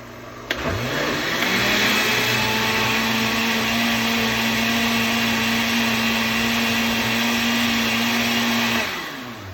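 An electric mixer blends light-colored paper pulp in a steady, loud whir that starts abruptly, holds a constant droning pitch for about eight seconds, then winds down, with no talking.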